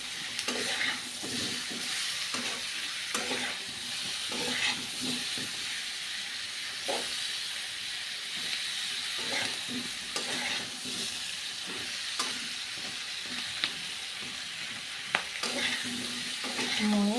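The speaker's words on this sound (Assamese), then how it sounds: "আগতে এনেকৈ ভাজি লওঁ" Potatoes fry in a pan with salt, a steady broadband sizzle and hiss running throughout, broken by repeated clinks and scrapes of a spatula stirring, close and moderately loud with no talking.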